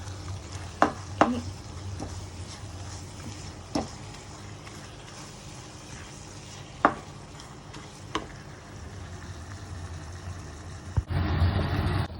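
Ingredients for gongura chutney frying in oil, a low steady sizzle with occasional sharp spatula knocks against the pan, ending in a brief louder rush of noise, no talking.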